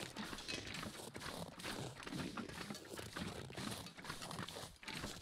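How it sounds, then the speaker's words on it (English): Footsteps in The Long Dark video game crunch in a steady walking rhythm through dense, continuous noise, close and moderately loud with no talking. "Thought I heard footsteps that were not my own."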